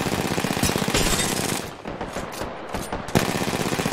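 Rapid automatic gunfire from the Apex Legends battle royale game rattles loud and close in dense bursts, with brief pauses and a sharp burst near the end.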